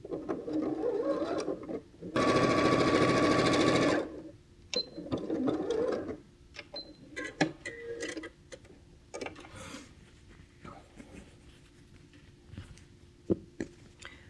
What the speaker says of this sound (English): your best way to sew this is to sew it into strips of 3 and then line up the strips